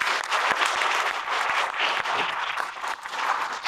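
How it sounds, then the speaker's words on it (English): Steady audience applause at a community breakfast, a sustained round of clapping from a room full of people, loud and continuous with no speech over it. "Round of applause for Jeff."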